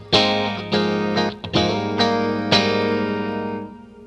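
Clean electric guitar with both pickups on in an out-of-phase setting, run through reverb, delay and chorus: a handful of ringing picked notes and chords, each left to shimmer and trail off in a wash of echo.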